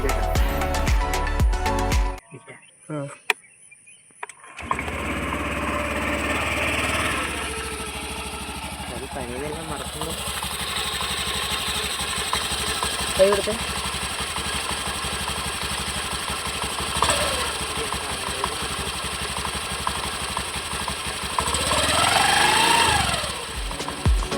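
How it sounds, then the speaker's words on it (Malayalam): A 2024 Honda Dio scooter starting and idling, its small engine and exhaust giving a steady close putter with a few light revs, after a brief clatter and silence at the start. "ഇനി നമുക്ക് നമ്മുടെ വണ്ടിയുടെ എക്സോസ്റ്റ് സൗണ്ട് ഒന്ന് കേട്ടു നോക്കാം"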